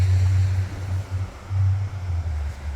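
Gusty wind buffets a microphone outdoors beside an RV at a service center, producing low, rumbling surges that swell and fade in uneven pulses over a few seconds.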